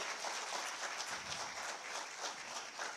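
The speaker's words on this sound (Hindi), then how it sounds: "तालियां एक बार जोरदार आप सबकी तरफ से होनी चाहिए" Steady, fairly faint applause from an audience at a government ceremony where the Chief Minister hands out appointment letters, marking the ceremonial lamp lighting; dense even clapping that holds for the whole stretch.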